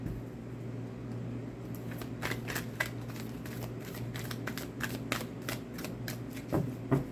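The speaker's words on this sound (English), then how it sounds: "I'm feeling like 1 or 2 more shuffles." Tarot cards being shuffled over and over in quick riffling bursts, steady and close, with a low constant hum underneath.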